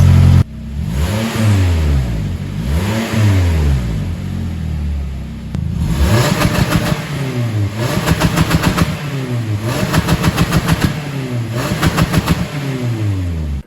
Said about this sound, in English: you guys can listen to the exhaust on it.